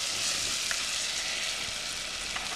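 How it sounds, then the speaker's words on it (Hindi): Ginger garlic paste frying in a pan of hot oil, a steady loud sizzle close up with a couple of faint stirring scrapes, no voices. "इसमें अदरक लहसुन का पेस्ट डालते हैं। ओके 2 चम्मच। ओके और इसको भून देते हैं।"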